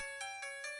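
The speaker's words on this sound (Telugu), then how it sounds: "నాకేదో ఫోన్ వస్తుంది" A phone ringtone for an incoming call plays a few quick repeated electronic tones in an even rhythm, clear and alone.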